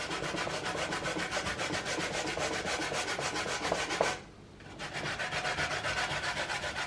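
Cassava being grated by hand for homemade bammy makes a continuous rhythmic scraping on a grater, close and steady, with one brief pause before the strokes resume.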